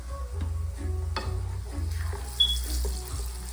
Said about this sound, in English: the reason why we're frying the tortilla.